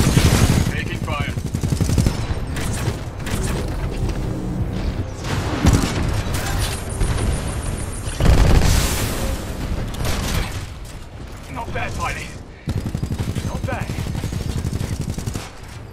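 Sustained gunfire and booming blasts in Titanfall 2 as a Militia Titan, chassis BT-7274, takes fire; loud, dense bursts run almost continuously, with a brief lull near the end, mixed with game voices.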